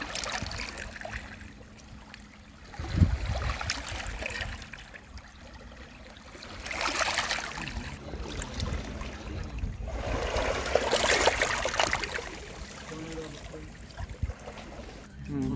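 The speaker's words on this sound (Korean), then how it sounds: "그럼 잠시 파도 소리 듣고 갈게요." Gentle sea waves wash in and out at a clear, quiet, empty beach, a few soft swells rising and falling at moderate volume with no voices.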